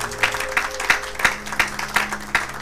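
A church congregation applauds in worship, steady rhythmic clapping in a regular beat of about three claps per second, moderately loud and reverberant with no talking over it.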